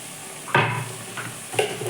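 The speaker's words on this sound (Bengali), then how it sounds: "তেলের পরে রসুনটা দিয়েছি" Garlic fries in hot oil with a low background sizzle, broken by a few sharp bursts of crackling as a spoon stirs or the pieces are moved, close and without voices.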